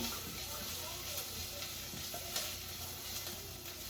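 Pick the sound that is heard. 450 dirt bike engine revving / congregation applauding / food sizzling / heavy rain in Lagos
food sizzling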